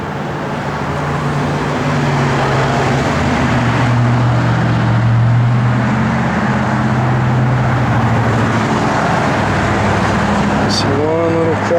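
A classic car with an automatic transmission idles steadily nearby, a continuous low engine rumble holding even throughout, with a brief higher whine near the end.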